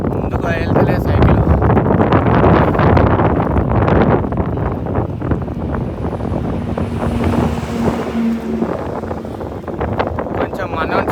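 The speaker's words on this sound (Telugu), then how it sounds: "అసలు ఒక 5 కిలోమీటర్స్ వచ్చినావో లేదో ఫుల్ గాలి వస్తుంది, దమ్ వస్తుంది." Strong headwind roars against a microphone while riding a bicycle along a road, a steady, heavy buffeting rumble for the whole stretch with a voice talking underneath.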